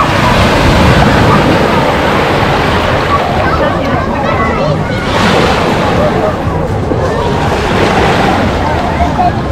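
Sea surf washing steadily onto the shore at Lazarevskoye near Sochi, a loud continuous wash of breaking waves with wind noise on the microphone throughout.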